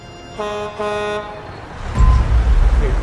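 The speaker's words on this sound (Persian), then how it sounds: "یه صدای بوغ ماشین سنگین اومد" Two short blasts of a deep vehicle horn, the second longer, followed by a heavy rumbling engine noise.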